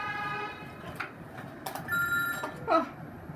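A telephone rings indoors in a rented flat in London, repeated bright electronic trills at moderate volume against faint background noise.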